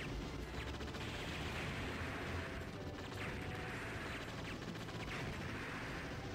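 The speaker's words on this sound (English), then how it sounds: "Many bullets in that gun." Rapid gunfire in the video game Metal Slug XX rattles continuously at a low level, a dense stream of shots and mechanical clatter with occasional heavier bursts, no talk over it.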